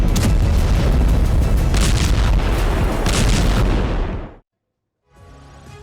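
Bombing explosions in news footage roll out as heavy, booming blasts with rumbling aftershocks, loud and continuous for about four seconds before cutting to silence, followed by a faint low tail.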